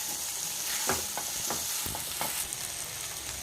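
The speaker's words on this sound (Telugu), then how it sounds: "ఇట్లా ఫ్రై అయిన తర్వాత ఈ గోరు చిక్కుడుకాయ ముక్కలు వేసుకుందాం." Chopped cluster beans stirred into frying onion paste, a continuous sizzle with several soft scraping strokes of the spoon close by, no voices.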